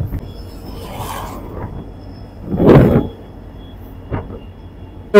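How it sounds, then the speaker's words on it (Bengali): A train passes alongside a road, its low rumble swelling to a loud rush near the middle before fading, heard from nearby with steady background noise and no talking. "ওই পাশ দিয়ে ট্রেন যাচ্ছে"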